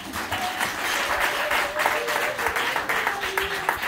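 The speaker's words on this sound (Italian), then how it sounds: "E questo, un applauso alla bauta." A stand-up comedy audience breaks into steady applause, a dense wash of many hands clapping at a live show. The clapping stays loud throughout, with a few voices calling out underneath.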